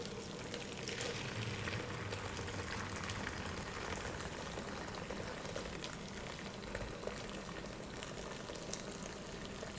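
Prawn laksa broth being strained, a soft steady wash of pouring liquid with faint bubbling that runs evenly throughout, quiet and alone.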